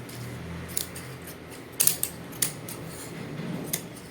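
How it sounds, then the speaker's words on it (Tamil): Scissors snip through fabric from an old shirt being cut into a gown. A few quiet, sparse crisp snips come up close in an otherwise hushed setting. "பாருங்கள், இது அப்படியே கட் பண்ணி எடுத்துக்கலாம்."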